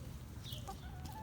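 Chickens clucking near a feeding area shared with giant tortoises, a few short clucks and squawks standing out briefly over a low background rumble.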